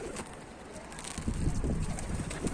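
Soft, low cooing of pigeons in a coop repeating in short pulses, fairly faint against light wind and background rustle.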